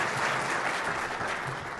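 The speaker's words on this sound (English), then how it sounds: "So if you don't mind just giving him a round of applause." An audience at a U.S. Department of Energy presentation gives a steady round of applause, dense continuous clapping from a crowd heard alone at moderate loudness.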